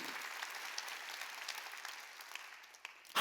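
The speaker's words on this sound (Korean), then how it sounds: "박수치고" Applause from a church congregation at a New Year's Eve service, a steady wash of many hands clapping at moderate level throughout, swelling louder and sharper at the very end.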